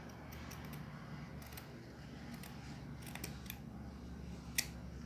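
Scissors snipping satin ribbon for a bow, a few quiet crisp cuts close by over low steady room noise, with one sharper snip near the end.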